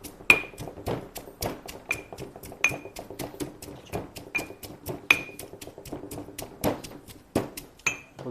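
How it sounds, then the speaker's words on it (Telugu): Ginger and garlic pounded in a mortar with a pestle, a steady rhythm of sharp, ringing strikes about twice a second, close and clear with some metallic pings. "అల్లం వెల్లిపాయలని ఇప్పుడు మనం దంచుకుందాం."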